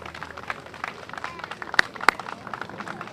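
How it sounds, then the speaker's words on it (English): Scattered outdoor applause greets the kids at a park ribbon cutting, with light clapping, crowd murmur and a couple of sharp, loud claps standing out near the middle. "We should give the kids a round of applause, the young people a round of applause."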